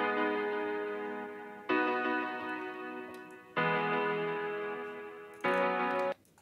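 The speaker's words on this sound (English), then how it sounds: "these are the Mellotron 5," Mellotron chords programmed in FL Studio ring out as four bright, sustained chord hits in slow succession, each starting loud and slowly fading before the next.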